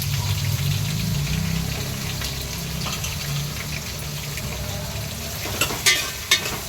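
Onions and about ten green chillies sautéing in oil for ghee rice, a steady close sizzle with stirring scrapes and a few sharp clinks near the end.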